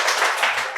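A group of people claps in a brief, dense burst of applause, steady and fairly loud throughout.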